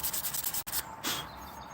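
Hand sanding to remove scratches before moving to 400 grit, a rapid rhythmic back-and-forth rasping, close and steady, with a brief pause partway through.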